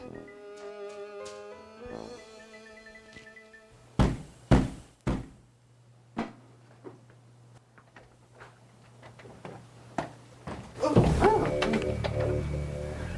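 Knocking on a door comes as a few sharp, separate knocks in an irregular pattern, fairly close, between quieter stretches, followed by a louder burst of mixed sound.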